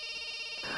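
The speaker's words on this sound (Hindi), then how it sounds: "अरे बार बार फोन बज रहा है, उठाते क्यों नहीं हो?" A phone rings insistently indoors, a steady electronic ringtone tone, continuous and fairly loud with no voices over it.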